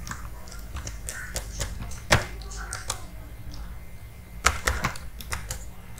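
A full name typed on a computer keyboard while registering on a crypto mining website, crisp irregular keystrokes close up with a few louder taps standing out.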